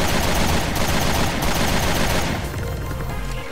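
Rapid, loud gunfire in the video game Resident Evil Revelations 2, a continuous dense volley of shots for most of the stretch, tapering toward a quieter tail at the end with no talking.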